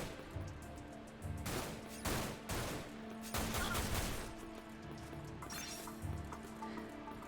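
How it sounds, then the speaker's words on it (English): Gunfire in the video game Dirge of Cerberus, a series of sharp bursts and shots in uneven clusters, fairly close and moderately loud, with no talk. "Always shooting from the weirdest points."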